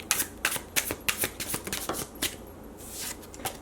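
Deck of oracle cards with a smooth coated finish being shuffled by hand, a quick run of crisp riffling snaps and brushes, close and clear, no talking.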